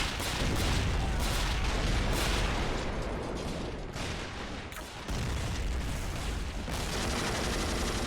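Heavy gunfire and booming artillery pound a trench in a video game battle, a dense continuous barrage of shots and blasts, loud and close, with little talk.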